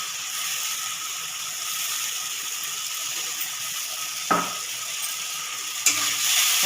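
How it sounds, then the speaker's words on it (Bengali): Soaked Gobindobhog rice fries with cooked spice masala in a pan, giving a steady close sizzle and hiss throughout, broken by a couple of sharp scraping stirs. "তাতে মশলার সাথে একটু ভেজে যাবে।"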